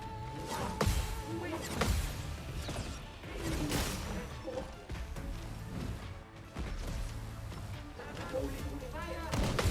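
Cannon fire in the video game Clair Obscur Expedition 33, with repeated booming blasts and crashing impacts over game music and battle effects. A player talks over it throughout.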